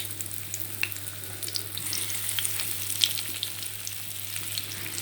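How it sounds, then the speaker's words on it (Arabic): Chicken pieces frying in hot oil for a chicken and taro dish, a continuous dense sizzle with a low steady hum beneath and no talking. "ننزل بقى بالفراخ كده في الزيت السخن الجميل بتاعنا ده"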